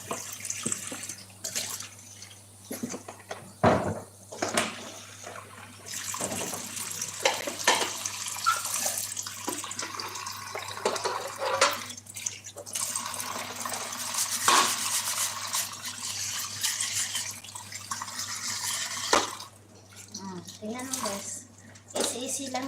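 Running water and splashing in a kitchen sink while raw chicken is washed after a bleach soak, steady flow with clinks of dishes, under intermittent talk.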